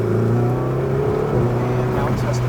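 A Ferrari 488 accelerating hard on a race track, its engine note a steady, loud, rising drone with strong harmonic layers, heard up close from inside the car.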